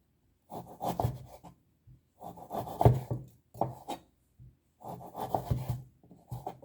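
A knife cuts beef into bite-sized pieces on a cutting board in a home kitchen, giving four separate bursts of soft rubbing, scraping strokes with quiet gaps between them.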